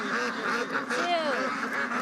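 Ducks quack in a busy, continuous chorus at close range, overlapping calls from several birds, with people talking over the flock during a challenge in Yilan, Taiwan.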